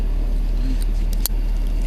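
An idling car engine gives a steady low rumble throughout, with a brief click or clunk near the middle and no other clear events.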